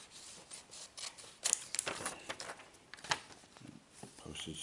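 Scissors snip through a paper envelope being trimmed down for a mail-in ballot, giving a few quiet, close crisp cuts and rustles with soft handling noise between them.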